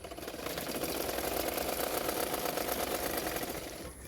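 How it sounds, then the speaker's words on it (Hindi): A sewing machine runs continuously along the edges of blouse fabric, producing a steady close mechanical hum and rattle that stops near the end. "उसके किनारे किनारे पे मैं और एक सिलाई कर दूंगी।"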